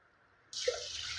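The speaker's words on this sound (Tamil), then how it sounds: "இப்போ நான் அரிசி எடுத்த கிளாஸ் அளவுக்கே நான் தண்ணி எடுத்துக்கிறேன்" Water pours from a glass into a pressure cooker holding Kerala red rice. A soft, close splash begins suddenly and continues steadily for under a second.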